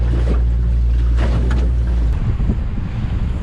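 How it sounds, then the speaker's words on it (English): Water laps against an aluminum boat hull on open sea off Guam, a loud, steady wash of sloshing and splashing mixed with heavy wind buffeting close to the microphone, with no talking. "The lapping sound that makes, whether you're in a John boat or any kind of aluminum boat like this one here."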